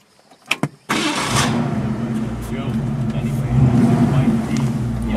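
A few clicks, then a 1965 Ford Mustang's 289 V8 cranks and catches, settling into a steady rumbling idle up close that swells slightly, with people speaking over it.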